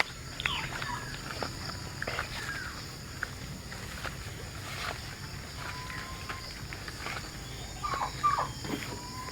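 A flock of turkeys on the first day at a new home, with soft scattered gobbles and clucks at moderate distance, light footsteps and rustling, and no voices.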